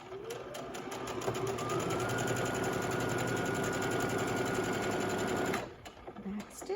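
A sewing machine runs steadily on a jelly roll rail fence quilt, a rapid, even mechanical hum and needle patter that stops abruptly near the end, leaving quiet handling noises.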